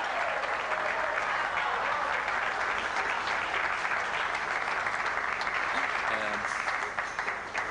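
A theatre audience applauds a performer in a contest, dense sustained clapping filling the whole stretch with faint voices and a cheer mixed underneath.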